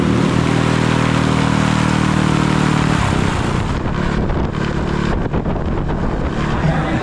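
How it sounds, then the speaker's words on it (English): A propeller-driven fan bike runs at a Thai long-tail boat racing event, a loud, steady roaring drone that thickens and rattles partway through, heard up close with no talk. "I can see that fan thing's going now, the old fan bike."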